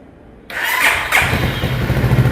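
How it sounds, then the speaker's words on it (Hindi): A Keeway K300N naked motorcycle fires up after a moment of quiet, the start catching abruptly and settling into a close, rough, throbbing idle with a second surge of cranking noise. "गाड़ी स्टार्ट हो चुकी है।"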